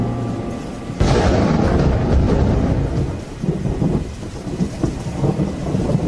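In a radio horror drama, heavy rain pours steadily while a loud thunderclap breaks in about a second in, rolling on as a long rumble beneath the downpour.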